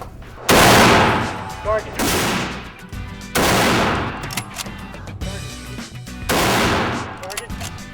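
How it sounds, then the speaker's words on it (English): M1 carbine rifle fired at a gun range, three sharp loud shots spaced about three seconds apart, each with a ringing decay, with brief talk between them. "I'm about to fire the M1 carbine"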